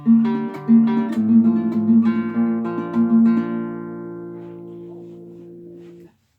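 Fingerpicked acoustic guitar chord passage, individual plucked notes ringing over one another in a steady pattern, then a final chord left to decay into silence.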